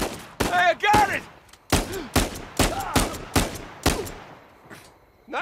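Gunfire from the video game Uncharted 4 rings out in a rapid series of loud, sharp shots with short pauses between bursts, some with whizzing ricochet tails, and a few voice fragments mixed in.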